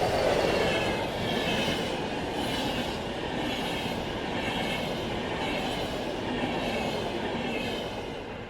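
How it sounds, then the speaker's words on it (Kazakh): An express train rolls past in a steady, loud roar of wheels on rails, with faint rhythmic clatter and some squeal running throughout and no voices. "Бұл экспресс пойызы."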